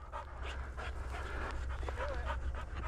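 A hunting dog on a South Dakota public-land pheasant hunt panting steadily and rapidly close by, with faint outdoor background noise and no clear talking.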